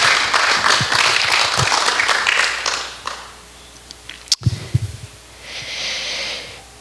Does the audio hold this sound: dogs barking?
no